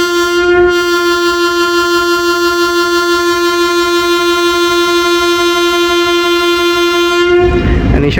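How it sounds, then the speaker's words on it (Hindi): A sustained, loud departure whistle or horn sounds at a railway station, Attock City Junction, holding one steady tone for several seconds before cutting off amid station rumble. "इनिशियल डिपार्चर विसल हो गया"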